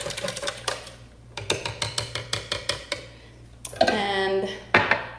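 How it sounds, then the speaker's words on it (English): A small handheld mini whipper whisks sweetened condensed milk, rattling in short rhythmic bursts with brief pauses, then a longer whirring stretch, close and fairly loud. "So we're gonna whisk this together first."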